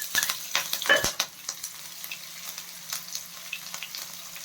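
Cumin seeds, chopped green chillies and garlic frying in a pan, a faint crackling sizzle with several sharp spits and pops early on, fading to a quieter, sparser crackle.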